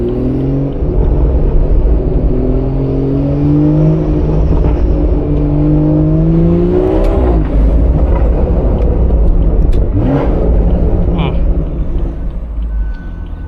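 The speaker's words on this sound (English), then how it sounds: "so the sound of the car tends to echo a lot" A BMW 440i with 330 hp drives through a residential area, its engine note climbing loud and close through the gears with a shift partway, and echoes off nearby walls.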